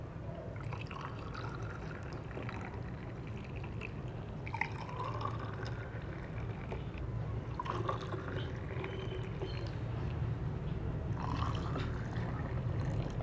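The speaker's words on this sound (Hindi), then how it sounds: "तो अब गिलासों में डालेंगे खीरे का जूस।" Cucumber juice pours into glasses holding ice and salt, a steady soft trickle and drip with a few brighter splashes as each glass fills.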